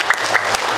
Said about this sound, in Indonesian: Tepuk tangan untuk kita bersama.